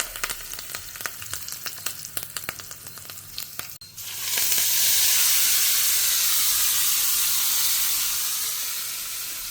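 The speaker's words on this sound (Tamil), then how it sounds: "ஸோ இது பொரியட்டும்." Vegetables hit a hot pan after a few sharp knocks and clatters, then a loud, continuous sizzle of frying fills the rest and slowly eases off.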